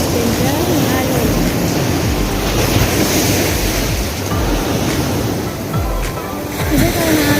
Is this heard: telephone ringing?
no